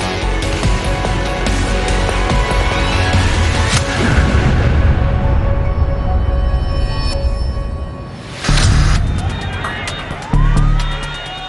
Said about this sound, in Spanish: La explosión hace que se derrumbe la sección central del edificio